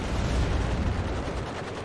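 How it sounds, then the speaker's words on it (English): Rumbling artillery bombardment in the WARNO war game, a dense continuous barrage of low booms and crackling impacts during a town fight, loud and sustained with no voices. "And we got some artillery coming in."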